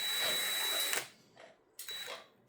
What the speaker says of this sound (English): We're going to remove our key and do some drilling.